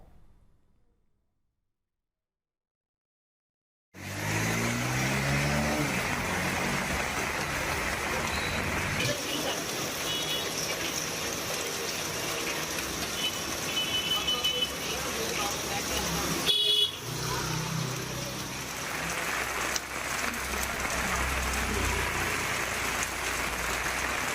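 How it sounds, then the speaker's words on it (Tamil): Heavy rain pours onto Chennai streets, a dense steady roar that runs continuously after a silent start, with passing car horns honking through the downpour and voices faintly underneath. "கனமழை கொட்டி தீர்த்தது."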